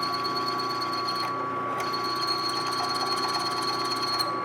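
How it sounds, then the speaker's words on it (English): A 5/16 inch twist bit countersinking holes in melamine, a continuous high-pitched buzzing drone with a steady tone, briefly dipping partway through, close and loud throughout. "I am using a 5/16 inch twist bit, which doesn't really have the right angle on it"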